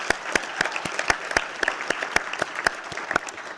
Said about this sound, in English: I would love to give Maria a huge round of applause.